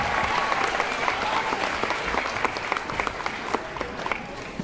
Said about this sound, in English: I think we should all give him a really warm round of applause